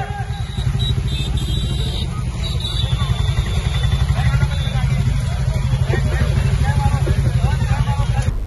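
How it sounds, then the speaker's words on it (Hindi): Motorcycles at a political bike rally ride past in a steady, loud engine drone with clatter and crowd babble, continuous throughout. "आम आदमी पार्टी ने कर्नाटका बीजेपी के खिलाफ निकाली बाइक रैली।"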